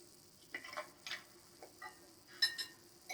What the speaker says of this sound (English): I like to just break them into a bowl and then whisk them a little bit